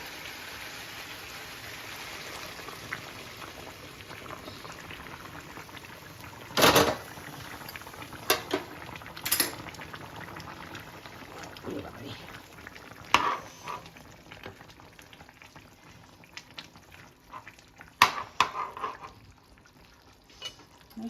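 Mutton and potatoes cook in a pot after hot water is added, giving a soft continuous bubbling simmer. Several sharp scraping clanks of a utensil against the pot break through the simmer at intervals.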